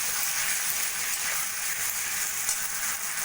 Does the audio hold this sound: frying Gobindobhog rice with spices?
yes